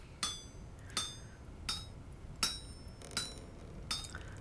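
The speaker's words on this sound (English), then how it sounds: "Just gonna whack this with the hammer a couple hundred times until it sort of seems to be doing what I want it to do." Hammer striking metal on an anvil in a video game: six separate ringing metallic clinks spaced roughly evenly, fairly quiet, each with a short bright ring.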